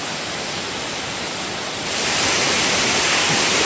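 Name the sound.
waterfall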